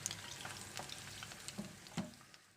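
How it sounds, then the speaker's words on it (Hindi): Chicken pieces shallow-frying in a pan until light golden, giving a quiet, steady sizzle with scattered small pops and crackles and no voices. "हमने इसको तब तक फ्राई करना है जब तक दोनों साइडों पे लाइट गोल्डन कलर ना आ जाए।"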